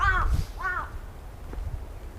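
A crow caws twice in quick succession on a mountain above the city, clear and fairly near, followed by fainter low rumbling and soft outdoor ambience.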